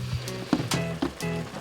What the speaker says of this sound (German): Und Manfred kocht da drin unseren besten Schweinebraten.